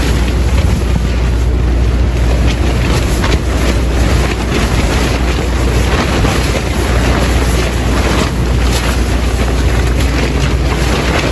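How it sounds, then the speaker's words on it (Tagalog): Strong wind buffets a camping spot near a house, a loud roaring gust noise battering the microphone nonstop and close up, with no voices. "Sobrang lakas ng hangin,"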